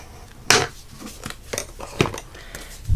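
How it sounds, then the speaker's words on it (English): A bone folder is drawn firmly along the fold of a paper card base, giving a few short, sharp scraping swipes that sound close and crisp, with quiet pauses between the strokes. "burnish the fold with my bone folder"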